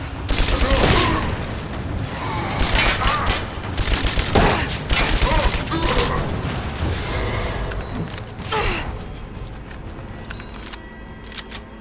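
Rifle shots in Rise of the Tomb Raider ring out as a string of loud, sharp cracks, spaced irregularly and fading toward the end, with a little talk in the background.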